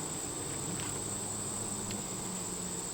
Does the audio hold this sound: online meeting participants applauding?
no